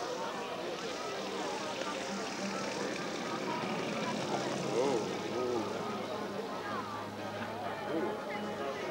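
An engine-powered hang glider flies at a giant scale model airshow, its propeller drone steady and moderately distant behind a busy crowd and commentary mixed throughout.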